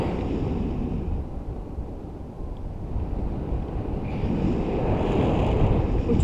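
Strong wind roars steadily across the microphone, a constant loud rushing with gusts building toward the end.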